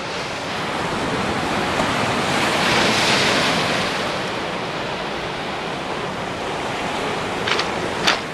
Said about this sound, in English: here comes the water.